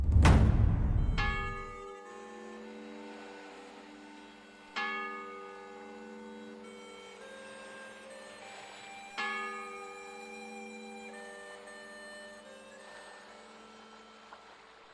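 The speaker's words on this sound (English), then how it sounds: "The bell invites me." Large bell struck three times at slow, even intervals, each deep ringing stroke swelling and then decaying into a long sustained hum, heard alone after a brief loud opening rumble.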